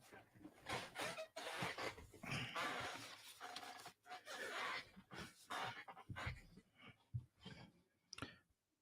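A dog pants rapidly and continuously, faint and close, with occasional clicks and rustling mixed in.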